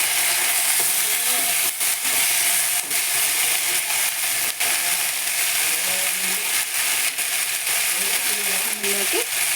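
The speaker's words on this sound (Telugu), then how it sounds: "ఉల్లిపాయలు వేగాయండి. మనం ఇందులోకి టమోటా ముక్కలు," Onions and tomato pieces for chutney fry in a hot pan at a roadside stall, giving a loud steady hissing sizzle throughout, with occasional clicks and faint background voices.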